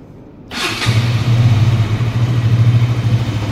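A KTM RC GP sport motorcycle with an under-body exhaust starts up and settles into a loud, steady idle close by, with a sharp cranking burst at the start.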